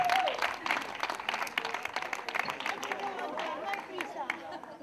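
Applause from the crowd at the finish and awards of a women's five-mile road race in Valldoreix, steady clapping mixed with cheers and crowd chatter, with a voice briefly heard early on.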